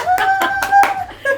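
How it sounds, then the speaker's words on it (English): Several sharp hand claps fall in a quick, even rhythm, loud and close. "clap for yourself"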